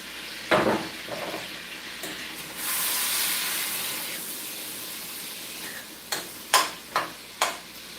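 Onions going into a hot pan for a steak and cabbage dinner: a soft hiss of frying rises and holds, broken by a few sharp clacks and scrapes of a utensil near the end.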